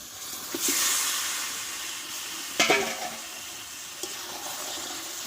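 Marinated chicken going into a pan of cooked-down spices, Bengali style: a loud hiss and sizzle rises at first, then a clattering stir and a scrape, and the frying continues in the background.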